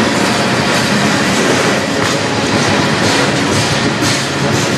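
A CN train rumbles past close by on the Strathroy Subdivision in Sarnia, Ontario, a loud continuous roar of wheels on rails that stays strong throughout.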